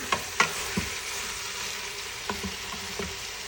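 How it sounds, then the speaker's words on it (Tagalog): Tomato is stirred into a frying mixture in a pan, with a continuous crackling sizzle broken by several sharp utensil scrapes and knocks against the pan. "At i-add ko na rin itong tomato. Mix lang."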